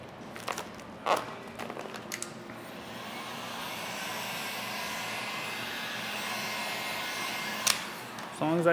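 A heat gun blows a steady, loud whooshing roar as it heats vinyl wrap film on the trunk of an Elantra N. A few handling clicks and thumps come at the start and end.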